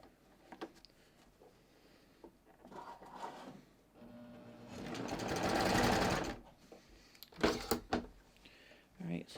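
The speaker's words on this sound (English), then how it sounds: "I'm just going to stitch around, and I'm just going to go slowly because I don't have a lot of wiggle room here" A sewing machine runs slowly while stitching around lined leggings, with short bursts of stitching and one longer steady run in the middle, close and moderately loud.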